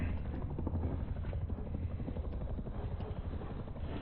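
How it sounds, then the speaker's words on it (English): A patrol helicopter in the survival game Rust drones steadily as a continuous low, dense rotor rumble filling the whole stretch at even loudness, with no talk over it. "there's a patrol helicopter"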